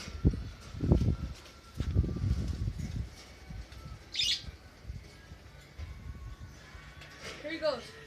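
A newly acquired pet bird gives a few brief chirps and squawks, scattered between people talking close by and handling noises.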